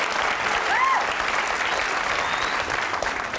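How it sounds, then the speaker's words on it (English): An audience claps together in a steady, sustained round of applause filling the room, with a brief whistle-like cry rising over it early on. "Not sure what you're applauding there"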